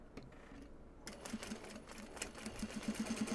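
A sewing machine stitches the side seam of a bag made from an obi, a close, quick run of mechanical clatter that speeds into a steady rapid ticking stitch rhythm.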